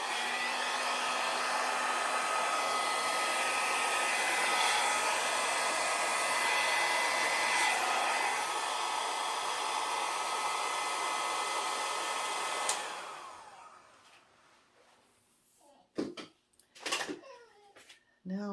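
A hair dryer blows across acrylic paint in a Dutch pour, a loud steady close whoosh for about twelve seconds that then cuts off, followed by a few bumps and a voice in the quiet.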